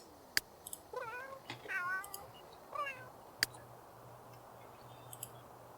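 A cat in The Sims 3 game gives a few short meows near the middle, faint and fairly close, alongside scattered clicks and ticks over a quiet background hum.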